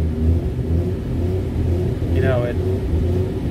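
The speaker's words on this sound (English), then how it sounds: "Now when I rev the motor," Jeep TJ engine idling and revving up, a low rumbling drone that rises slightly in intensity, with someone talking over it.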